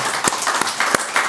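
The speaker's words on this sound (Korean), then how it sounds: "무한한 감사와 영광의 박수를 이 시간에 한번 올려드렸으면 좋겠습니다" Church congregation claps in thanks to God during a Korean worship service, a brief burst of several distinct, fairly close claps over a dense clapping background.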